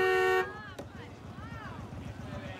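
A car horn sounds in one sustained, loud tonal blast at the start, then stops abruptly, leaving traffic rumble and someone talking over it.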